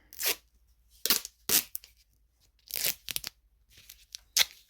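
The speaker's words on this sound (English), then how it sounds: "first I'm gonna put a piece of tape on" Tape being pulled and torn off a roll while fixing a kids' ATV, a series of about five short, sharp ripping bursts separated by quiet pauses, close and crisp.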